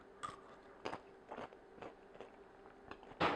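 Cooked, still-warm green beans are crunched between the teeth in a series of sharp, close bites and chews, about seven distinct crunches spaced irregularly over a few seconds.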